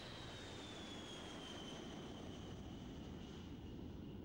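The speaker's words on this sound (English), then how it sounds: "this aeroplane is, of course, one of the classic NATO bombers, the B-52, the Buffy" Boeing B-52 bomber at the Royal International Air Tattoo 1999, its jet engines giving a faint, distant, steady roar with a slowly falling whine running over it.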